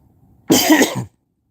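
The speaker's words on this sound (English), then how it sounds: "Am I really coughing? Cough." A single short burst of coughing, close and fairly loud, standing alone in an otherwise quiet room.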